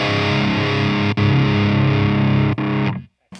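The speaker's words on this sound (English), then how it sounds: "it's obviously a more saturated sound when you jump to it" A KSR metal amp, a high-gain model compared against the Artemis and Orthos, pushes a thick saturated distorted guitar tone that sustains loudly with two brief cuts before stopping abruptly near the end.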